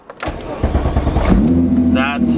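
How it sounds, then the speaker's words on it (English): A Volkswagen MK3 car engine cranks and starts on a cold day, with a rough churning turnover that settles into a steady idle hum, while a person talks over it. "If you act silly, car, and don't start"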